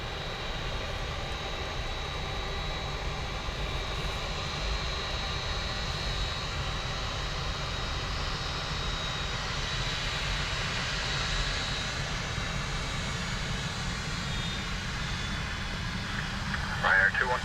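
A JetBlue airliner departs Dublin Airport bound for Boston, its engine roar a steady broadband rumble held for the whole stretch under a faint radio voice.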